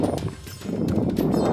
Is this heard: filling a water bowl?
no